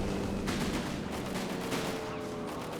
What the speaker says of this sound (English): Good strafe there by Paul